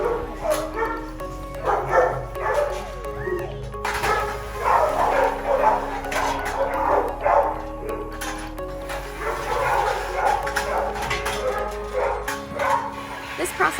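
Several dogs bark and yip repeatedly in a shelter enrichment yard, a busy, overlapping chorus of barks with a steady low hum beneath and a person talking over it.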